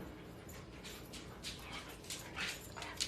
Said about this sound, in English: Oh, that was a dog.